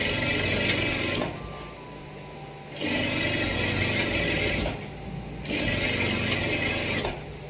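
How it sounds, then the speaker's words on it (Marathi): A sewing machine's stitch lock lever pushed down and brought back up, heard as bursts of mechanical whirring and ratcheting that stop and start in blocks, close and fairly loud, no speech. "फक्त याला खाली करायचं आणि वरी करायचं. शिलाई लॉक इथं होणार."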